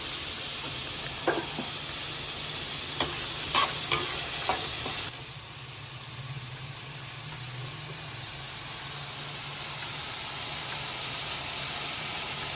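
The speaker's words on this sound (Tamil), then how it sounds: "பூண்டு ஒரு நல்ல ஒரு பெரிய பல்லு, ஒரு 4 வெங்காயம், கொஞ்சம் உப்பு போட்டுக்கோங்க, கல்லுப்பு." Garlic, four onions and rock salt frying in a pan with cumin, a soft continuous sizzle with several sharp utensil clicks and scrapes in the first few seconds, then a quieter steady hiss; no voices.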